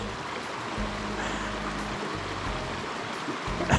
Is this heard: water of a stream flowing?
yes